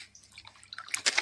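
Water splashing and trickling as raw chicken is rinsed in a home kitchen, a short burst of quiet running and splashing that grows brighter and louder toward the end.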